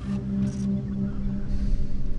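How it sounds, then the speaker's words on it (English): Steady low drone of a glowing collectible object in the City of Villains video game, a close, continuous hum with faint higher swells drifting over it, heard without speech. "All the glowies make a hum that helps you to find them."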